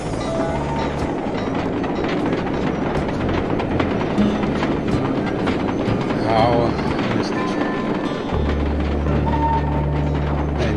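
A train in the Sly 2 level Iron Horse, Iron Terror rumbles past with heavy rolling clatter, loud and continuous, layered with other game noise and a voice speaking over it.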